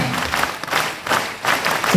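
An audience claps together through a Telugu talk on financial independence, a dense, steady patter of many hands in waves that swell and dip, close and loud, with no voices over it.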